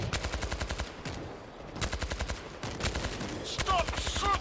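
Rapid automatic gunfire from a World War Z: Aftermath co-op battle, loud bursts of evenly spaced shots with brief pauses between volleys and shrill game effects near the end.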